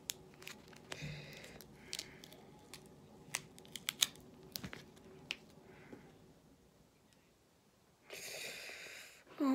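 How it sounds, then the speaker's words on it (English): Scissors snip through a person's hair in a run of sharp, irregular close clicks and crisp cuts, with a brief rustling burst near the end and no talking. "I'm gonna have to cut off my hair"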